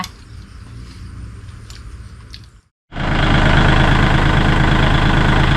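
A tractor engine idles with a steady low rumble before ploughing a one-rai farm field. It cuts out briefly, then returns as a much louder, close, continuous roar.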